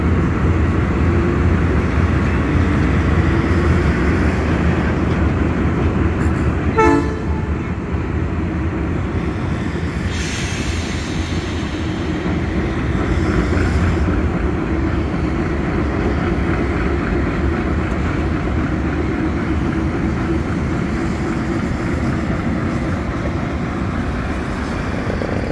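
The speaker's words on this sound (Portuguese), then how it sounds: "essa locomotiva vai fazer a distribuição dos vagões aí nas linhas" A locomotive shunting freight wagons in a port rail yard at Santos: a steady, loud diesel rumble with rolling rail noise, a brief squeal around the middle, continuing without talk.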